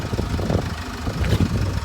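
A 2012 Renault Koleos engine runs at a steady idle, a close, continuous low hum with slight vibration and no talking.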